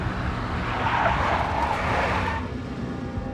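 A big black Mercedes skids in the video game Max Payne, its tires squealing in a loud, sustained screech over a rumbling engine that fades slightly toward the end.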